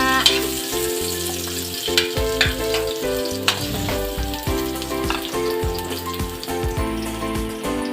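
Garlic and onion fry in hot oil, a loud, continuous sizzle broken by scraping stirs and utensil clatter against the pan, with no voices.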